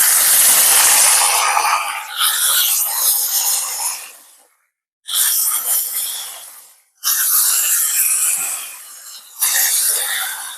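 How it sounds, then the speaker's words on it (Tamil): Drumstick pieces tossed into onions already frying in a pan give a loud, hissing sizzle in long bursts, broken by short pauses as the pan settles, with no one talking. "வெங்காயம் வந்து நல்லா பொரிஞ்சு கொண்டு வந்துட்டு நாங்க இப்ப முருக்கங்காய சேர்ப்போம்."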